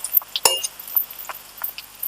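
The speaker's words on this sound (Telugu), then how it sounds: "మూత పెడదాం ఒక 2 minutes వెయిట్." A metal lid set down on a cooking pot of gongura oil curry gives a single sharp clink, followed by a few faint light taps and clatters nearby, with no talking.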